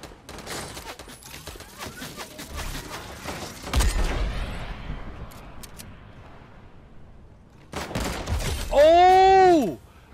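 Fortnite gunfire on Nintendo Switch: a rapid burst of shots, then a heavy boom, with a brief rising and falling tonal game effect near the end, all fairly loud.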